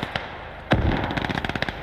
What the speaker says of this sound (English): Mortar just absolutely battering the crap out of them